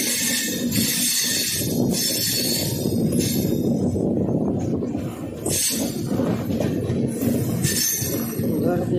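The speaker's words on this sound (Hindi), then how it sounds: "क्योंकि कर्व गोलाई ज़्यादा है तो ट्रेन को धीरे धीरे निकालने के लिए सावधानीपूर्वक निकालने के लिए इस टाइप से ब्रेक लगाया जाता है" A train brakes slowly on a sharp curve on the Gondwana route between Mathura and Raipur, with continuous rolling rumble and high metallic wheel squeals that come in repeated bursts.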